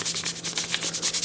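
Fingers rubbing kinesiology tape onto a thumb, a close, steady pulsing friction swish repeating about ten times a second.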